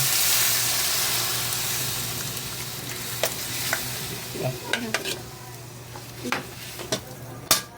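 Vegetables go into a frying pot of mung bean stew, setting off a loud, steady hiss of sizzling. It is followed by a run of sharp clatters and scraping as the pot is stirred, all close and with no talking.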